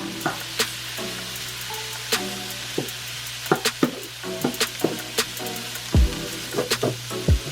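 Garlic and butter sizzling in a pan of sweet potato hash with chicken sausage, a steady frying hiss broken by repeated scrapes and knocks of a utensil stirring, close and fairly loud, no voices.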